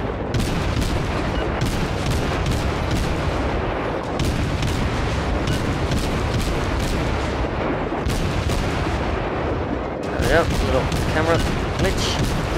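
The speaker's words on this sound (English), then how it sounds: "Just keep the guns firing, aim at his top deck." Warship guns fire in World of Warships aboard the cruiser Kolberg, a loud, dense barrage of booms and blasts that rolls on continuously, with heavier salvos at intervals.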